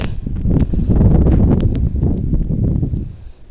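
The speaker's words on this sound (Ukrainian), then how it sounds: "Ой, небо яке холодно, вітер холоднющий." Cold wind gusting across a village vegetable garden where potatoes are being hilled, a steady loud rush with rustling and buffeting against the microphone throughout.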